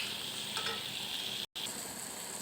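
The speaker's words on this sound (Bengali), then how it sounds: "পনিরটা দিয়েও আমি নাড়বো।" Paneer frying in a pan while being stirred, giving a steady close sizzle with a few soft scraping touches and a brief dropout midway.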